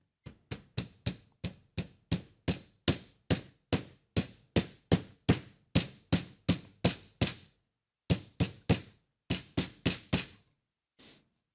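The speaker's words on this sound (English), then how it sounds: "The old hand mallet." A hand mallet taps parts into a snug fit with a rapid series of sharp, close knocks, around two per second. There is a brief pause partway through, then several more strikes and one faint final tap.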